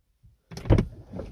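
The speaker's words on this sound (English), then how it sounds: "And now we're going to close and reopen the door again." A Cadillac ATS door shuts with one solid thump after a brief rustle, followed by a short trailing mechanical rattle, close and loud.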